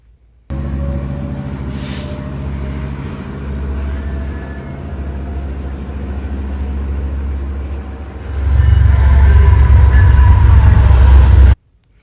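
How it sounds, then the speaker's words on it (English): A BNSF freight train with four locomotives, including an SD78, rumbles past close by as a loud, continuous roar that swells heavier toward the end before cutting off abruptly. "Got a BNSF train. This is SD78. The next unit is an H1, I believe."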